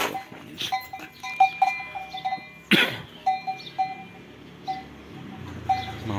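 Hollow cowbells clank in an irregular rhythm as cattle pull a traditional sand-hauling cart in Jember, with a sharp rattling clatter midway and quiet outdoor background.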